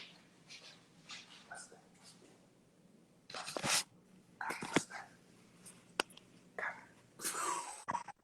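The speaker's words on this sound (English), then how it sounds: "The dog." A dog sniffs and snorts indoors in several short bursts of breathy nasal noise, close to the microphone, with faint background murmur between them.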